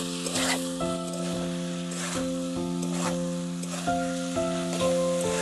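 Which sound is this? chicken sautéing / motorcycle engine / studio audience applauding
chicken sautéing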